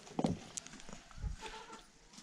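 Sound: chickens feeding in a farmyard

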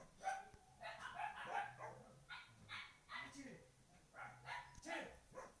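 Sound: dogs barking

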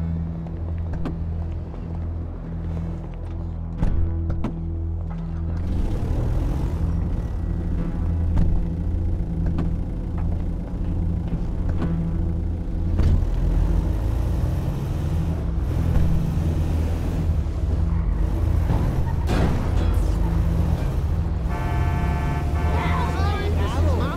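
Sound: van driving, GTA 5 video game

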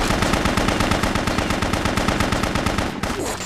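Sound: gunfire from the BloodRayne video game

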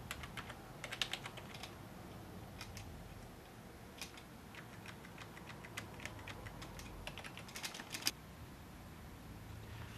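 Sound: typing on a thin client keyboard

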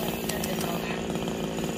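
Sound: chainsaw cutting down a tall tree

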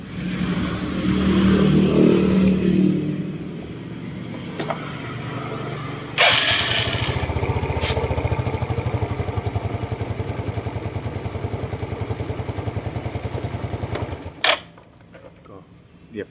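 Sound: Yamaha Mio Fino scooter engine running during idle tuning

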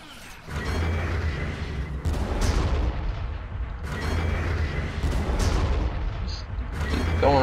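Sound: artillery fire in video game Armageddon

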